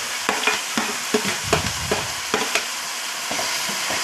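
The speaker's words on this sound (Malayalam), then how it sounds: "ഇത് മൊത്തത്തിൽ ഒന്ന് ഇളക്കണം." Onions and crushed shallots fry in a pan while being stirred, with a steady sizzle and repeated scraping strokes of the spoon at a close, even rhythm. No one speaks.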